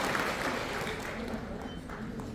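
Applause fills a large hotel ballroom at a year-end gala of a regional hometown association as guests sit down, a steady dense clatter of many hands with faint voices mixed in.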